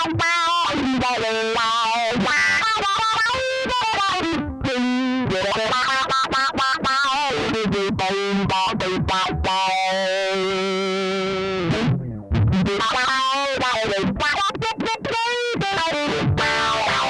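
An electric guitar plays through a wah-wah pedal with extra gain and distortion, loud sustained notes sweeping in tone over a long continuous riff, with no talking.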